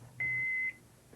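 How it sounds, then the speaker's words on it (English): A Zojirushi home bakery bread machine gives a single clear electronic beep, about half a second long and steady in pitch, over a quiet low hum. "In about 10 minutes, the home bakery will beep. This is the signal to add any other ingredients such as chocolate chips, raisins, or nuts."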